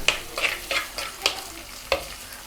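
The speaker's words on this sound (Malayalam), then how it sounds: "പിന്നെ നമ്മുടെ കറിവേപ്പില, ഇത് നന്നായിട്ട് വഴന്ന് വരണം." Slit green chillies and curry leaves sautéing in hot oil for a Kerala fish molee, with six quick spatula strokes scraping rhythmically over a light sizzle, close and alone.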